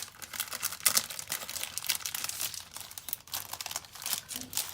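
Cellophane wrapping on a happy mail package crinkles and crackles in quick, close bursts as it is pulled open by hand.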